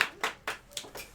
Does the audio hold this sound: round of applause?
yes